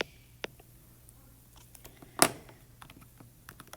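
Light clicks of typing on a computer keyboard come in a sparse, uneven run, mostly faint, with one sharper keystroke standing out in a quiet room.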